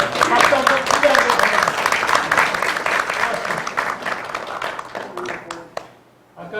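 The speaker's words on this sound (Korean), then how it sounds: "박수 한번 크게 하고" Hearty crowd applause at a tenth-anniversary forum of a farmers' association in Anseong rings out with sharp, close claps and some voices mixed in, then tapers off and stops near the end.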